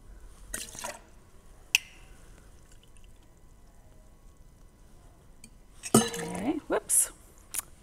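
Cold brew coffee poured into a glass at a bar with a small spill: quiet drips and clinks early on, then a louder burst of splashing liquid and glass knocks near the end.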